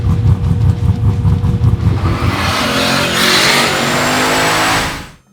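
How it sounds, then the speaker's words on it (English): An LS V8 swapped into a Ford XR6 Turbo revs hard and close, its rumbling idle-like pulses giving way to a sustained high-rpm roar before cutting off abruptly. "this is my LS powered XR6 Turbo"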